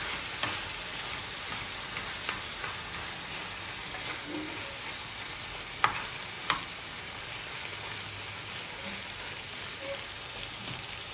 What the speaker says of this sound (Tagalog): Halos oily na siya. Nagpiprito na siya.